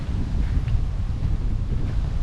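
Strong wind buffeting the microphone on the exposed, windy side of Bequia island in the Caribbean, a loud, continuous low rumble and gusty roar with no other sounds.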